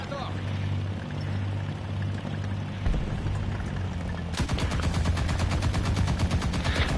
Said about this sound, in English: My machine guns won't even do anything.